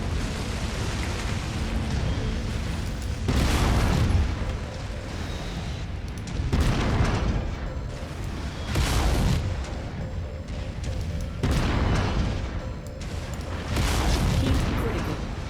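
Deep booming explosions roll through a mech battle in MechWarrior 5 as a target is destroyed, four or five heavy rumbling blasts a few seconds apart over a constant low engine drone, moderately distant.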